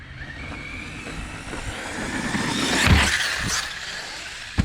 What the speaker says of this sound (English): This is my stunt truck too